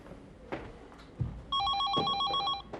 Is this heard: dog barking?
no